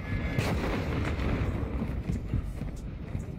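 A mortar strike in Warzone 2, heard as a dense, continuous roar of booming blasts and crackling debris that fills the whole stretch at steady loud volume, with no talking.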